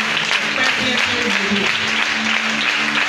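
A church congregation at an Easter service claps loudly and steadily throughout, dense continuous applause with voices mixed in.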